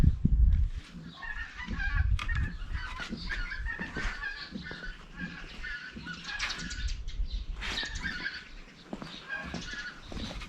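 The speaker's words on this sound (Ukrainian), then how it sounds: "Полетіли гуси." Geese flying overhead honk repeatedly in an irregular chorus, moderately distant, with overlapping calls continuing throughout and some low rumbling underneath.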